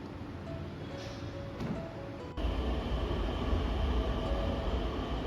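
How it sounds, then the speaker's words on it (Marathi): A Pune Metro train from Swargate to PCMC rolls into the platform, its steady mechanical rumble jumping suddenly louder partway through and holding, with no voices present. "स्वारगेट ते P C M C metro आलेली आहे"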